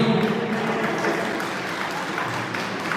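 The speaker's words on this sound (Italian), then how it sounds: "possiamo fare un applauso ancora a tutti e tre i ragazzi giovani" A crowd at a regional elite boxing tournament final in Veneto applauds three young boxers. The applause is a steady, even wash of many hands at moderate volume with no clear break.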